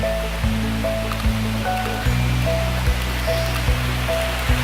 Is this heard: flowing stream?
yes